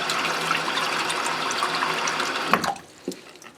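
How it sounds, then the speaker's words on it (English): Tap water runs steadily into a bathroom sink, a close rushing splash with some echo that cuts off near the end, followed by a few drips. "Then I fill the sink."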